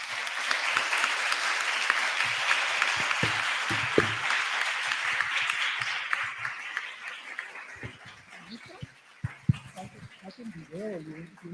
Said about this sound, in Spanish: Un aplauso a la Facultad de Arquitectura.